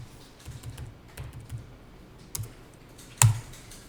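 Computer keyboard keys tapped in a scattered, uneven rhythm while entering figures into accounting software, then one sharper, louder keystroke near the end as Enter is pressed, close and clear.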